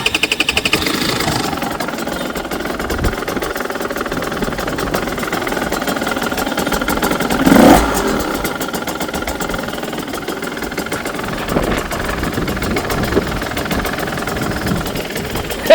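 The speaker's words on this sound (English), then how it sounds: "That starts. It's pretty lackluster because it's so quiet." A 2024 KTM 150XCW dirt bike engine starts and settles into a quiet, steady idle, with a brief louder burst at the start-up and a soft continuous putter afterward.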